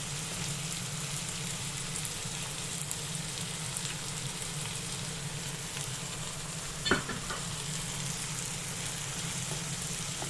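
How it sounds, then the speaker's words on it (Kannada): Onions frying in a pan for ridge gourd chutney, with garlic to follow, give a continuous close hiss and crackle that holds evenly throughout, with one sharp stirring clack midway and no voices. "ಈಗ ಈರುಳ್ಳಿ ಹಾಕಿದ್ದೀನಿ ಈರುಳ್ಳಿನ ಫ್ರೈ ಮಾಡಿ ಚೆನ್ನಾಗಿ ಬಾಡಿಸ್ಕೋಬೇಕು"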